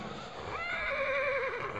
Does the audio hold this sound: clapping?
no